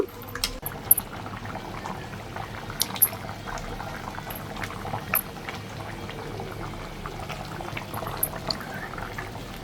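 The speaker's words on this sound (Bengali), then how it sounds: "মুরগির মাংসটা কষায় নেওয়ার পর তো পানি দিয়েছিলাম আর এখন পানিটা শুকায় আসবে" Chicken curry simmers with water in a kadai, a quiet, continuous bubbling with small irregular pops and clicks close by, no voices over it.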